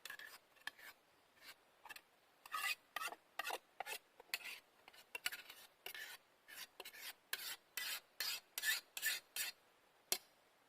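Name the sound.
mixing minced beef, onion and mashed potatoes together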